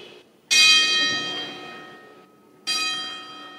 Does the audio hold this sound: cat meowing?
no